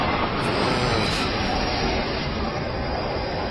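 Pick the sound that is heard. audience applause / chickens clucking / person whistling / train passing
train passing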